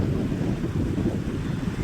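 Sea waves at the Coimbatore seashore with green water, a steady broad rushing wash with wind buffeting the microphone, continuous and fairly loud, no voices.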